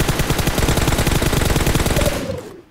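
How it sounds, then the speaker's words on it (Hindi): Rapid automatic gunfire rattles loudly and continuously in a competitive shooting video game match, a dense burst of shots lasting over two seconds before tailing off, with no talking over it. "वन सेकंड गोली चलाऊंगा।"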